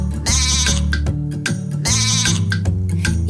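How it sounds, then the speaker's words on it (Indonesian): Two loud sheep bleats, each a wavering nasal cry, with no talking around them. "Itu suara yang dibuat domba"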